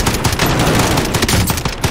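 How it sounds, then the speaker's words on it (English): Rapid, loud automatic gunfire in Call of Duty: Modern Warfare Plunder, shots fired through a wall in a fast, continuous burst of sharp cracks. "Shooting through the bloody wall."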